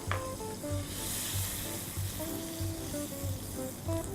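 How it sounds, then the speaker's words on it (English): Butter and a generous amount of olive oil melting and sizzling in a Pro X frying pan over medium heat, a steady close crackling hiss with faint clinks. "heat my Pro X frying pan up to a medium heat, and then we'll add some olive oil, generous amount of olive oil, and a generous knob of butter"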